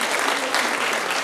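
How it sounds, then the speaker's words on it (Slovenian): Audience at a youth awards event applauding, a short burst of dense, even clapping that fills the whole moment. "Še en aplavz medtem"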